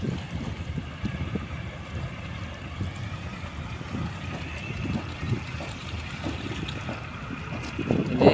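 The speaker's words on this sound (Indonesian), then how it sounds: "Ini kapal masuk lagi." A large ship enters a harbor in the late afternoon, heard as a steady low engine rumble over water, with wind buffeting the microphone throughout and no voices.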